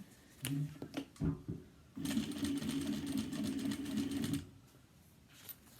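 A home sewing machine bastes fabric close to the edge for a cross-body bag with a recessed zipper. It stitches in a few short bursts, then runs in one steady rapid whirring run of about two seconds before stopping.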